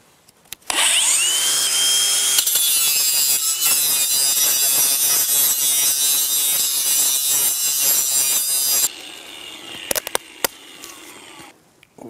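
A small angle grinder fitted with a masonry carbide disc cuts through plastic gravel stabilizer plates in one loud, continuous whine of about eight seconds, then stops, leaving a few clicks and handling noises.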